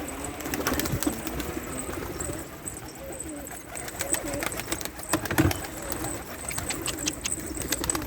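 Soft, low pigeon coos repeat against a noisy outdoor background, with scattered clicks and rustles, including a louder burst near the middle.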